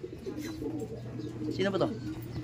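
Soft cooing of pigeons close by over a low background murmur, with a brief fluttery burst partway through.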